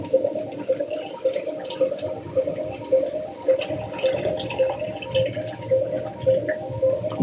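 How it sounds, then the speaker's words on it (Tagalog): Water runs steadily from a tap in a home kitchen or bathroom, a continuous close splashing hiss with a slight gurgle that holds at an even level throughout, with no talk. "Ang daming tubig."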